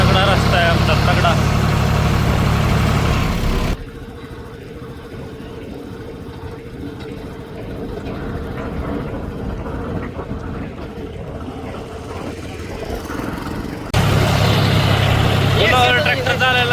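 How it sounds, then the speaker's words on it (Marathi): A John Deere 5310 tractor engine runs on a rough road, giving a steady diesel rumble that is loud at the start and end with a quieter, muffled stretch in between. "ट्रॅक्टर चालायला लय वेगळीच फिलिंग येते"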